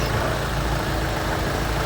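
A car engine idles at a steady, unbroken rumble in an auto repair workshop, with a dense, even drone and no pauses or revving throughout.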